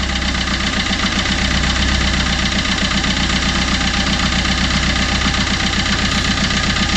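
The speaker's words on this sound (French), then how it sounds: "Le fait que ça tourne sur 3 pattes et que ça cogne un peu" Fiat Qubo 1.3 Multijet diesel engine idling roughly on three cylinders with a persistent knock, a loud close steady clatter with a rhythmic uneven pulse throughout, no voices.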